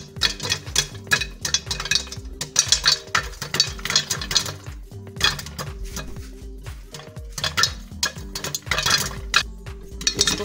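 Caramel popcorn kernels pop inside a covered pot: dense, irregular bursts of sharp pops and rattling against the metal, loud and close, with occasional clinking of the pot and lid and no talking.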